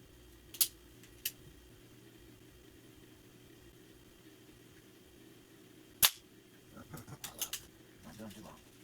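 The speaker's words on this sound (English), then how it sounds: "see just how well I can do with this brake barrel spring piston air gun. And yeah, let's go ahead and take some shots" A Ruger Mark IV .177 break-barrel spring-piston airgun fires pellets in sharp, snappy cracks, two early shots and a louder third, followed by faint clicks and handling noise over quiet background hum.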